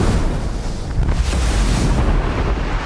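A tank explodes in a war film, a dense, sustained rumbling roar with a heavy low-end blast texture filling the short stretch, loud and continuous with no voices over it.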